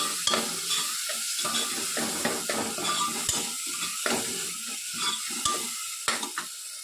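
Tomatoes and fenugreek leaves frying in a pan for mutton curry, a constant close sizzle with repeated scraping and knocking of a spoon stirring against the pan, no voices.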